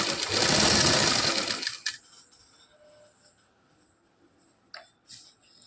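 Sewing machine running fast in one loud continuous burst while stitching the side seam of a salwar, then stopping abruptly, followed by faint fabric handling and a couple of light clicks.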